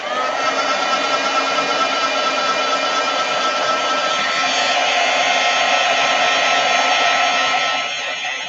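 A heat tool running steadily at close range, heat setting a fabric flower for a Fashion Monger dahlia, a continuous blowing whir holding even for the whole stretch before easing slightly at the end.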